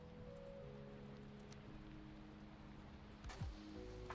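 Rain pattering steadily in a video game world, a soft even wash beneath held music tones, with a brief low thump near the end and no voices.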